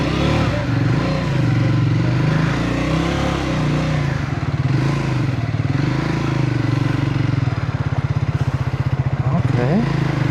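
Triumph motorcycle engine at a demo day, running loud and steady while riding, with a rough rhythmic pulse and a brief rise in revs near the end.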